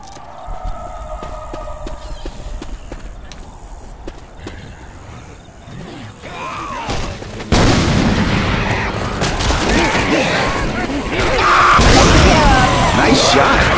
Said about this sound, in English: Grenade launcher here. Got a grenade launcher.